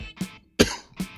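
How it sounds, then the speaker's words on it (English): A few short, close coughs in quick succession, sharp and breathy. "I'm coughing"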